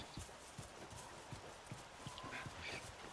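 A horse's hooves clip-clop at a steady walking rhythm in The Last of Us, with evenly spaced thuds under faint game ambience and a brief tonal cue.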